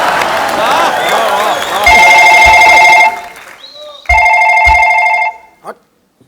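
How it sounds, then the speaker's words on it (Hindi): Loud electronic telephone ringing in two bursts after a stretch of chatter and background noise on a TV comedy show set, then a short tap and silence. "और भाभी का जो फोन बज रहा है वो भी तो उठाना चाहिए।"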